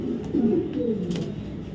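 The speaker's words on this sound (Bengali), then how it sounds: "অনেক সুন্দর একটা নর কবুতর" A male racing pigeon, light-coloured with pomegranate-red eyes, coos in a steady low rolling murmur close by, with no talk over it.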